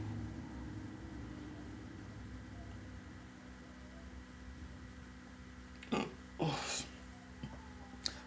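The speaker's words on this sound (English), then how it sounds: "trying to burp in the mic." A person deliberately burps into a microphone during a live talk show, a few short rough bursts standing out near the end over a quiet, hissy background.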